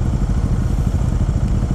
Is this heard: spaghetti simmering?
no